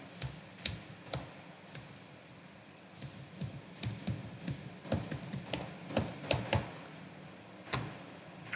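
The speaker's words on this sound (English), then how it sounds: "So I am going to type my email address." An email address being typed on a computer keyboard, with quick irregular key clicks close by that come in short bursts and pauses, and no talking.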